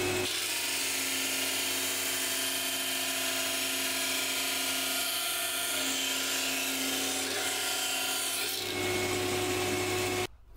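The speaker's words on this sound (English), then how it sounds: "sand down to my line using the disc sander" A disc sander whines steadily and loudly as it rounds the corners of cut wooden pieces, its grinding rasp holding constant, with no talk, before cutting off abruptly at the end.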